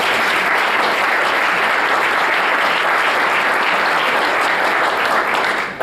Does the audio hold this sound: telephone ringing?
no